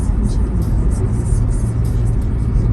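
A black car passes close by, its steady engine rumble and road whir filling the moment at constant loudness with no clear approach or fade.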